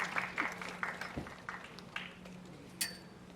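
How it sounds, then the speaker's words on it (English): Scattered audience clapping at an award ceremony for assistive technology, uneven and fairly soft, with separate claps rather than a dense roar, thinning toward the end. "let's applaud first and then we'll invite them on stage with the applause"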